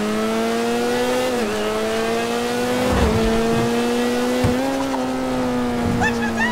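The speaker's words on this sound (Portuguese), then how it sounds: "o som do motor, apesar de não ser aquele motor de cilindrada alta, né, não é um V8, mas você vê que é aquele 4 cilindros" A four-cylinder engine on a Sentinel Classic Widebody in GTA 5 revs high and steadily, a close, buzzing drone with a small pitch dip early and brief shifts midway, running continuously without talk.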